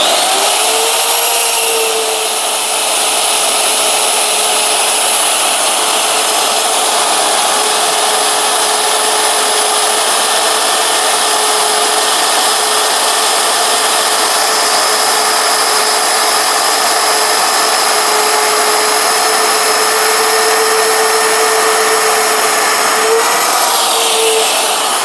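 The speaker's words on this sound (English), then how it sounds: "now we're going to drill some 9/16 holes in our plate" A steady, continuous high-pitched mechanical whine with grinding texture runs throughout as a drill bores 9/16-inch holes through a steel hitch plate, with no talking.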